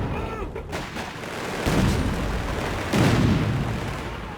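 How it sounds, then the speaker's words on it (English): Heavy gunfire and artillery rumble through a Company of Heroes 3 battle in North Africa, with a dense continuous roar and two big booming impacts landing about a second apart, loud and close. "Heavy fire!"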